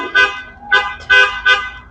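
A neighbor's car horn honks four times in short, evenly spaced blasts, loud and close, with no talking over it.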